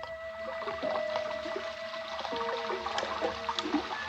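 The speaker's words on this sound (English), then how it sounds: "That's the way it sounded when it rained, because the room was just below gutter level, and the rainwater rushed by the room's only window." Rainwater rushes past a window set just below gutter level, a steady gushing and trickling flow with a few faint tonal hums underneath, continuous and fairly close, with no one speaking.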